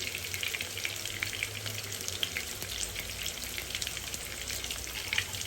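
Turkish köfte meatballs frying in a pan of oil, a faint but steady crackling sizzle with scattered pops running throughout, no talk over it.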